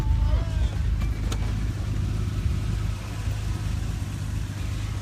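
An old car fitted with original Alpina wheels sits with its engine rumbling low and steady at idle, a constant deep hum with faint background noise.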